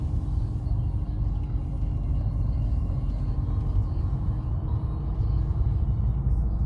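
A vehicle passes on a road with a steady, loud low rumble throughout, close by, with no voices.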